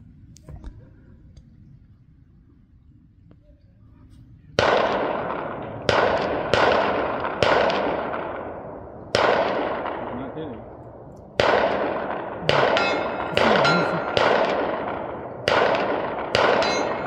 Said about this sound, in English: let's start shooting pistol at 100 yards